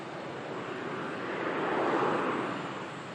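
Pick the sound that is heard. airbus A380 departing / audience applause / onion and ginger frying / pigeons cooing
airbus A380 departing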